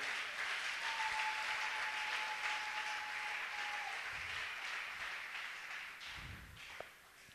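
A church congregation applauding the Lord during a service, with sustained, dense clapping from a crowd that fades slightly toward the end, with a brief tap near the close.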